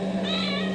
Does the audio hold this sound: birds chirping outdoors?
no